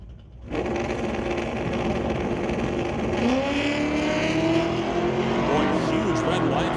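A 1985 Chevy S10 with a 6-liter LS V8 runs in a Pro class drag race. Engines erupt suddenly into a loud, sustained roar that climbs steadily in pitch under hard acceleration, with a commentator's voice faintly mixed into the din.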